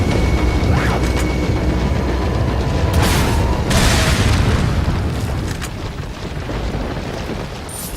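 Loud rocket launcher explosions in Resident Evil 4 on PS4 boom in heavy, rumbling bursts over dense, continuous in-game chaos, with the sharpest blasts arriving about midway before the rumble slowly fades.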